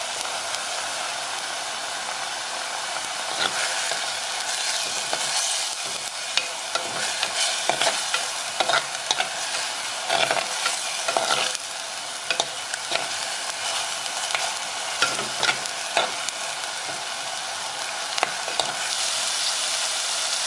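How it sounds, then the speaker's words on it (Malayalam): Crushed ginger and garlic frying with onions for a Kerala fish curry, a steady sizzle under repeated scraping stirring strokes, close and fairly loud throughout, with no talking. "നമുക്കിതിലേക്ക് ഇഞ്ചി വെളുത്തുള്ളി ചതച്ചത് ചേർക്കാം."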